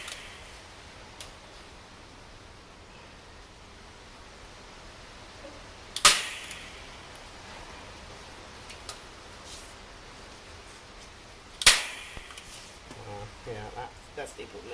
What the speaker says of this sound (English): start adding some staples to it